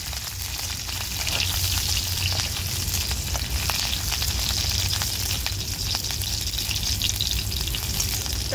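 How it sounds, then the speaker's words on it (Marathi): Garlic and chopped green chillies sauté in hot oil for an ambadi leaf bhaji, giving a continuous close crackling sizzle with faint stirring and no talk. "तर आता मी परतून घेते।"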